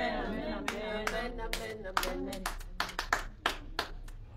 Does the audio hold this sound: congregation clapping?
yes